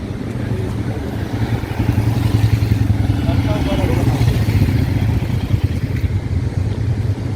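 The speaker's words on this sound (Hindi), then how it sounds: "बाइकर्स देखिए, एक ग्रुप बाइकर्स का एक ग्रुप आ गया है" A group of motorcycles rumbles past on Rohtang Pass, a loud and continuous engine roar that swells after the first couple of seconds, with voices faintly mixed in.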